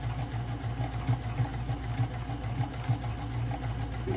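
Bag fabric feeds through a sewing machine in one unbroken pass, the motor humming steadily up close under a fast, even stitch rhythm, with nobody speaking.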